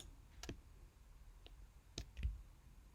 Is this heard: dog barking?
no